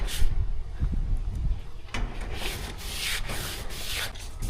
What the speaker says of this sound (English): Then I'm going to rub over the surface and literally just to take off anything flaky or floating left on.